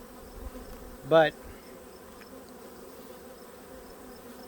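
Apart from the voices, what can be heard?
honeybees buzzing at a hive inspection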